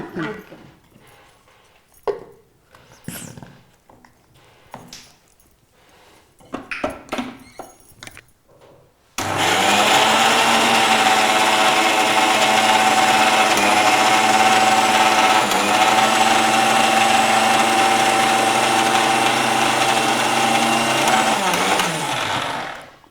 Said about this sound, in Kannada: ಈಗ ಇದು ಮಿಕ್ಸಿ ಮಾಡ್ಕೊಂಡು ಆಗಿದೆ